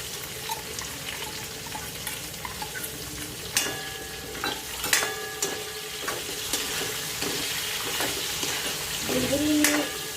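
Three to four chopped onions sautéing in oil for palak paneer: a steady close sizzle with intermittent spoon scrapes and occasional ringing clinks of metal cookware.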